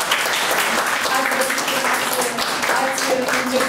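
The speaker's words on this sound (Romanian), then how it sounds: "Hai să aplaudăm" Audience clapping fills a room at a Romanian book launch, loud and continuous throughout, with a few voices mixed in beneath the applause.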